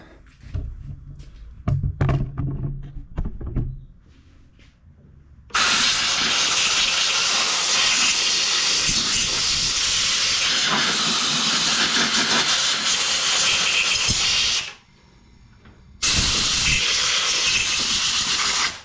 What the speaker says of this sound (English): I'm gonna have to get the air hose and just blow all that stuff off there so I can see it better